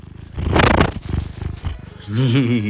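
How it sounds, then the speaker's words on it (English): A cat purrs close by in a rough, rhythmic rumble, while a person talks softly to it. "Hi, Kitty. Kitty."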